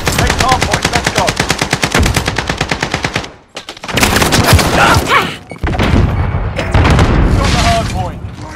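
Rapid machine gun fire in Call of Duty: Modern Warfare multiplayer, a loud, fast regular burst followed by heavier booms and mixed gunfire, with radio-style voices talking over the action.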